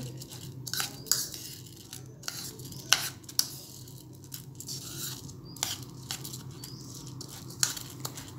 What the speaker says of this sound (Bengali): একটা চামচ দিয়ে ভালোভাবে নেড়েচেড়ে চালের সাথে মিশিয়ে নিচ্ছি